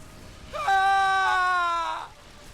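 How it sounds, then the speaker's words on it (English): A tortured prisoner in the video game Star Wars: The Old Republic lets out one sustained, strained scream lasting about a second and a half, loud and close, with a rising onset and a falling tail, alone and without talk. "Scream, weakling. I want to hear your suffering."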